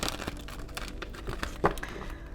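Tarot cards being shuffled by hand, giving a short run of crisp card riffles and soft rustling, close up and alone.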